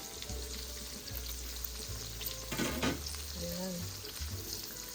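Pork belly frying in its own rendered fat, a continuous crackling sizzle with stirring and clatter near the middle; a voice says a word briefly.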